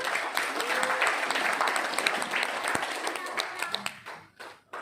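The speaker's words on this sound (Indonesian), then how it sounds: "Boleh tepuk tangan?" An audience at a medical talk breaks into applause, a dense, close clatter of many hands clapping that holds steady and then thins out toward the end.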